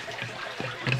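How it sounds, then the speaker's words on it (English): A bell siphon in an aquaponics grow bed drains water in a short close gurgling trickle with a slurping swell at the end, no talk. "when this bell siphon's on, it creates a suction and starts sucking the water down"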